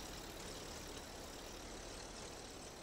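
A McCormick Deering International Harvester tractor in Farming Simulator 22, a four-cylinder 6.3-litre engine from 1923–29, holds a steady low, rumbling idle with broadband hiss, constant in level and without a voice.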